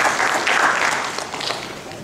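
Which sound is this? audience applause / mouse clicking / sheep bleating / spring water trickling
audience applause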